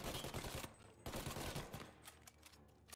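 Dense bursts of automatic gunfire from the video game Mafia rattle loudly in quick succession, two heavy volleys separated by a short gap, then fading into scattered shots.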